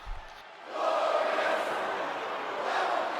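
In the WWE 2K22 wrestling video game, an arena crowd sings a chant for Robert Roode. A steady, full wash of many voices swells in after a brief quieter start and holds loud to the end.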